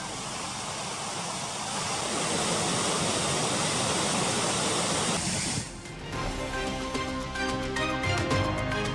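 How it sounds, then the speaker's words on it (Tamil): Floodwater rushing down swollen rivers and waterfalls in the Kodaikanal hills during continuing heavy rain, a loud, steady broadband roar that shifts partway through to a rougher, more textured rush. "ஆறுகள் அருவிகளில் பெருக்கெடுத்து ஓடும் வெள்ளம்."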